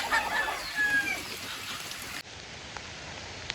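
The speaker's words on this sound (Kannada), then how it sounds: "ನಾಟಿ ಕೋಳಿಗಳಿಗೆ ನೋಡಿ ಎಲ್ಲ ಹೆಂಗೆ ಆಟಾಡ್ತವೆ" Country chickens clucking outdoors during heavy rain, a few brief calls over a steady hiss of rainfall, which drops quieter partway through; no talk.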